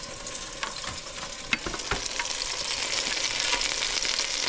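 Venison backstrap sizzles in butter in an electric skillet, a close, continuous crackling fry with a few pops and clicks, growing slightly louder toward the end.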